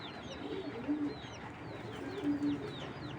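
Jira pigeons coo softly in two low, rolling bursts, with thin bird chirps scattered above and a constant outdoor hiss underneath.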